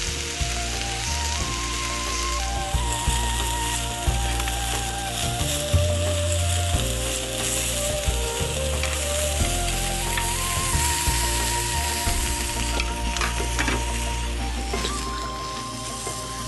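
Teppanyaki chicken kebabs sizzle and fry steadily on a hot grill, a loud continuous crackle with no talking.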